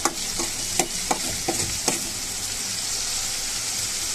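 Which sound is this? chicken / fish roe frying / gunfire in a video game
fish roe frying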